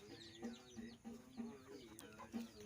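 Chickens cluck softly while eating, repeated short clucks in an irregular rhythm, close by but faint.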